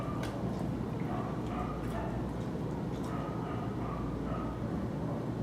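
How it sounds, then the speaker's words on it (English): Several dogs bark at a distance in an animal shelter behind steady background noise, with occasional yips rising above the hum. "She hears some barking in the background."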